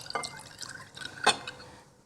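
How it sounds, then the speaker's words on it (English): Milk poured into a bowl of vanilla cupcake ingredients, a faint, brief trickling splash with a soft liquid patter close by. "And then some milk that also goes in."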